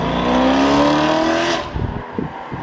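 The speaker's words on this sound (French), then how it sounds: "F-Type V8, j'adore vraiment cette voiture" A Jaguar F-Type V8 at a cars-and-coffee meet roars loud and close, a sustained rising rev for over a second before easing off into a rough, burbling idle with crackles.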